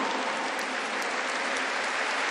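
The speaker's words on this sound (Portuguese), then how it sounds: "Vamos aplaudir esses irmãos guerreiros." Audience applause for caravan coordinators at a Catholic preaching event, a steady dense wash of many hands clapping throughout, fairly soft and even.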